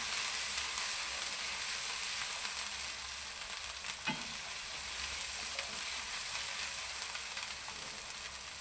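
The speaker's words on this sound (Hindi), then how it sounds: "2 से 3 मिनट इसको हम फ्राई कर रहे हैं।" Chicken with chickpeas and spices frying in a pan gives a steady, close sizzle throughout, with one brief clink of a utensil partway through and no voices.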